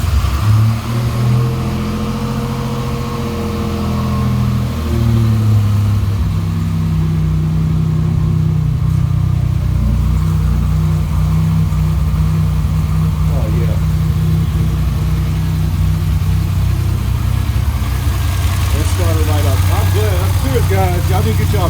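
A Buick Grand National engine starts and idles loudly nearby with a deep, steady rumble, its pitch shifting now and then as it settles.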